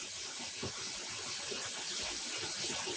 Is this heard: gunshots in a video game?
no